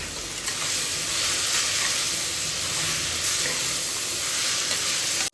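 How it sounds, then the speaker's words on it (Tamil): Vegetables and a handful of mint sauté in a single pot for veg pulao, giving a loud, steady sizzle and hiss that ends abruptly. It is close up with no talking. "இதையெல்லாம் நல்லா வதங்கிச்சு."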